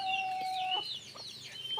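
Brahma chickens on a farm cluck and call, a few close bird vocalizations with high, rising tones over a quiet background.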